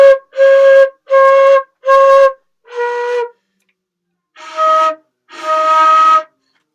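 Flute playing a phrase of Jolly Old Saint Nicholas: seven clear, separate tones, four repeated on the same pitch and then moving lower, with a short pause before the final two, played solo and up close.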